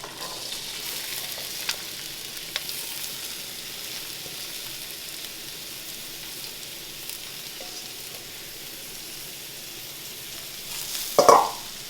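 Potatoes, peppers and onions sizzle softly in coconut oil in a pan, with faint crackling and an occasional tap, and a louder clatter of a spoon near the end.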